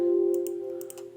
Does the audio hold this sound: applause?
no